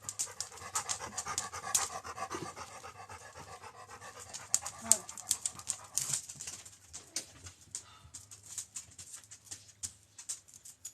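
A dog pants rapidly and close up, quick rhythmic breaths continuing throughout, with faint soft coos of a pigeon or dove in the background.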